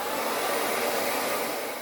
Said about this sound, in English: to speed up the process, I'm going to use the blow dryer